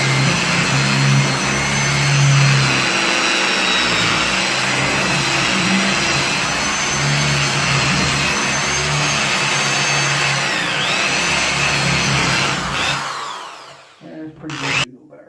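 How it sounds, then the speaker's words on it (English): A power drill countersinks and drives short screws while a full-body piebald doe is mounted in taxidermy. It whirs loud and steady for about thirteen seconds, then stops with a few brief clicks. "I'm going to countersink a little bit for some of these slightly short screws"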